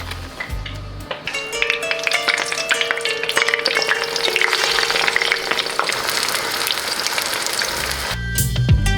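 Eggplant slices frying in hot oil, a steady loud crackling sizzle filling the scene with scattered taps and pings of utensils, no voices.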